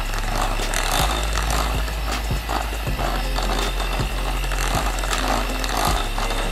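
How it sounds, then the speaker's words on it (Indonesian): An electric hand mixer beats margarine, butter and powdered sugar together, giving a continuous whirring drone with regular knocking clicks as the beaters strike the bowl, close and steady without speech. "Ini kita mixer. Ini cukup sampai tercampur saja ya."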